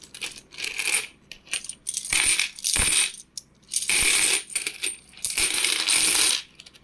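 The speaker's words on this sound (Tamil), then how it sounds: "இது யூஎன்சி காயின் இப்போ தான் கட் பண்ணியிருக்கேன்." An uncirculated 2015 Indian coin from the Hyderabad mint is handled and dropped, giving repeated bright metallic clinks and jingles in several close bursts with short pauses between them and no talking.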